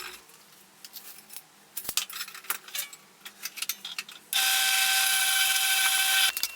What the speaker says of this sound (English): I'll start by cutting them down to size with the bandsaw